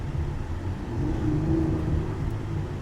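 A 2016 Honda Odyssey base model minivan engine rumbling steadily as it accelerates, with a low droning hum that swells slightly midway, heard from inside with no talking.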